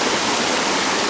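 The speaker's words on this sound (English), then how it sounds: "So here we are at Punchbowl Falls." Punchbowl Falls waterfall at Eagle Creek roars in a steady, loud, broadband rush of falling water, heard up close and continuous with no pauses or voices.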